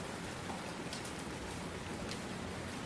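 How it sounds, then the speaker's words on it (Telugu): Rain falls steadily in an unexpected summer shower, a close, even hiss of drops with no break and no voices. "వర్షం ఎలా పడుతుందో"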